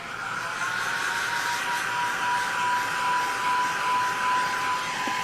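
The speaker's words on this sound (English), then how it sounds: "Let me go grab that heat gun" A heat gun blows steadily on vinyl retro side panel graphics for a Ford Bronco, a continuous near airy whoosh with a faint high whine, heard alone with no talk.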